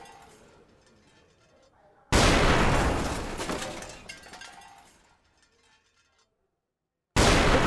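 Israeli strikes in northern Gaza produce a sudden loud blast that rumbles and fades over a few seconds, followed by silence and a second abrupt burst at the end, with faint voices before the first blast.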